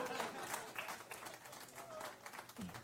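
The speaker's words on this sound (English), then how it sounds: "Round of applause for Glenn Lundy." A crowd applauds, steady scattered clapping at moderate distance, faint and continuous throughout.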